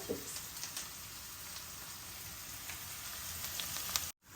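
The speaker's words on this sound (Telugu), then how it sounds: "ఈ క్యాబేజ్ ఎగ్ ఫ్రైకి మాత్రం ఆనియన్స్ ఎర్రగా వేగాలి" Onions fry in hot oil for a cabbage egg fry, a steady soft sizzle with faint crackles that runs evenly, then cuts out abruptly near the end.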